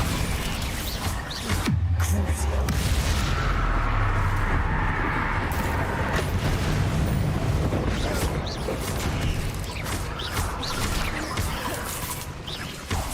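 Bombarda spells blast in Hogwarts Legacy amid combat, a dense run of booming impacts and crashing rubble, loudest early on and rumbling on steadily through the rest.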